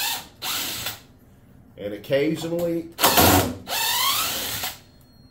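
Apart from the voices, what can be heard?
power tool removing screws from an epoxy mold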